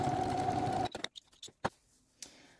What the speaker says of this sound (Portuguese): vamos passar só uma costurinha aqui nesse forro